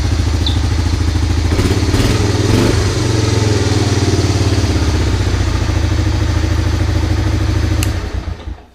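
A 1985 Honda Big Red 250ES engine runs with a loud, close, steady idle clatter, a few clunks marking gear shifts into reverse and back into gear, before the engine cuts off at the end.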